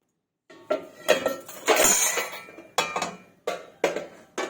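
An antique bronze kadai is handled and set down, giving a run of loud, close metallic clanks and ringing knocks in uneven bursts with short pauses between them, and no talk over the sound.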